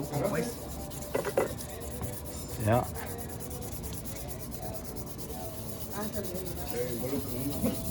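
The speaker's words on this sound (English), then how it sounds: "They're polishing the handles up, sanding them." Continuous rubbing and sanding on wooden knife handles in a knife shop, a scratchy rasp that goes on steadily with short louder strokes, while people talk briefly nearby.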